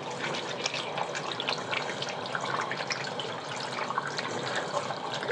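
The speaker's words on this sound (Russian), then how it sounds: "И быстренько промываем как следует наши кисточки." Running tap water splashes steadily into a sink as makeup brushes are rinsed clean, a continuous close gurgling flow with no talking.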